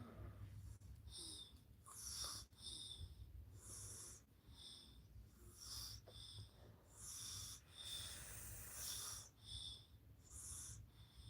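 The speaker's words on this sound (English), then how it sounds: "he's snoring away" A young child, probably a toddler, snores away while sleeping snuggled against a man, with soft raspy snorts and wheezy breaths repeating in a steady rhythm, close and quiet, with no talking.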